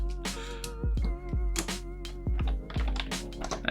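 Keys clacking on a custom-built keyboard in short irregular bursts, close and crisp, some strokes louder with deep thocks, no voices.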